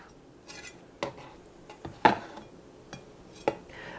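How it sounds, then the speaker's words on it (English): A knife slices a pan-seared rib eye steak on a board in a few separate close cuts, each giving a soft scrape or tap with quiet pauses between, and no one speaking. "so we're gonna cut it that way."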